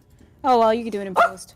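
A pet dog named Perro lets out a loud, close whining bark followed by a shorter yelp, with a person talking over it indoors.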